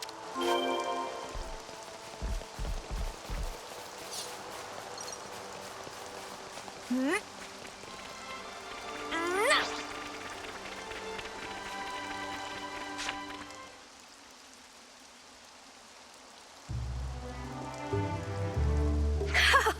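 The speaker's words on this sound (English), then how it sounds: "Rain." Steady patter of rain in Xenoblade Chronicles 3 on a surface, layered under tonal music and sound effects, briefly dropping away before returning louder.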